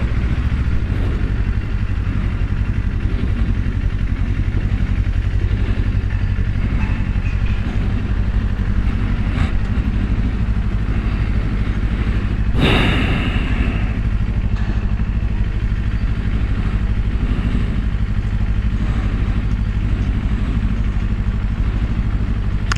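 A 2024 Kawasaki Ninja 500, a low-displacement motorcycle, runs steadily on a Miami road with a constant low engine drone and road rumble, plus one brief clatter midway; no one talks.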